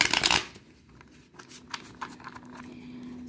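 Tarot cards being shuffled: a loud riffling burst at the start, then softer intermittent card slides and taps close by, with no talking.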